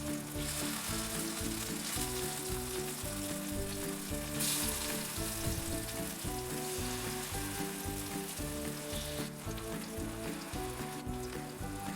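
Shrimp and vegetable tempura fries in oil in a pan, a steady sizzle and crackle with continuous hiss, some rhythmic background tones underneath and no talking.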